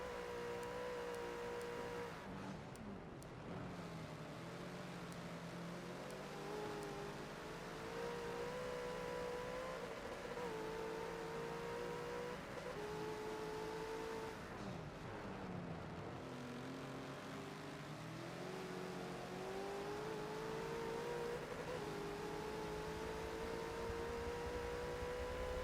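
Race cars including a Porsche roar around the Bathurst circuit in a video game, engines droning continuously with rising and falling pitch as they accelerate and shift, several cars overlapping at steady loudness.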